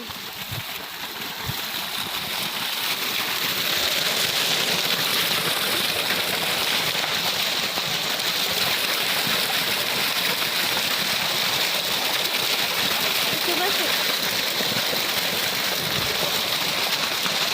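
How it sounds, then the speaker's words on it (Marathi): Cool water flows steadily along a field bund in a marigold plot, a continuous close hiss-like rush that stays even from start to finish, with no talking. "बेंडावरती थंड असं पाणी आहे."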